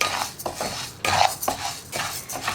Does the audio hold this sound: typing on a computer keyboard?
no